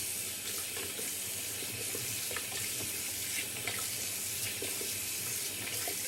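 Cold water streams steadily from a tap into a sink for a rinse during a wet shave, a constant close splashing rush with no talking.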